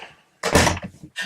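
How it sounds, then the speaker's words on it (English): A single door swung shut in a room, a short, close thump with a brief rattle as it settles, then quiet. "Close the door."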